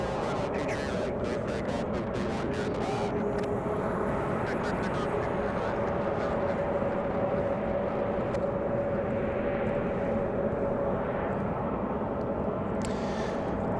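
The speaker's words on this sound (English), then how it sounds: "We do have Southwest taxiing out." A Southwest Airlines jet taxis out at Raleigh-Durham International Airport at night, giving a steady broad engine roar from a distance that holds level throughout while someone talks over it.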